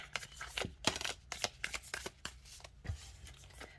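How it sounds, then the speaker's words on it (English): A tarot deck, the Astro Alignment, shuffled overhand at close range: a quick run of soft papery riffles and slaps in an uneven rhythm, with no speech. "if you are somebody who likes to overhand shuffle like this"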